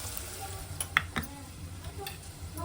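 Kalakura greens frying in a pan with salt, a soft steady sizzle broken by a few light stirring clicks and scrapes, faint and close.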